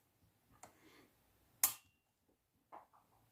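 A toy missile launcher on a Star Wars Vintage Collection X-Wing firing a small missile, with one sharp, close snap standing out between faint clicks of handling, without talk.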